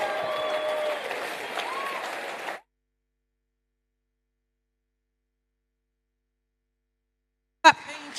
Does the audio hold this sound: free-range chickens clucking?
no